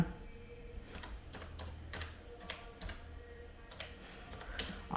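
Keys tapped on a computer keyboard while a value is entered for an option trade, a sparse run of light clicks under a steady low hum, with no talk.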